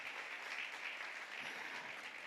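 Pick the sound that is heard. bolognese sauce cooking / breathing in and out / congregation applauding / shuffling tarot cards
congregation applauding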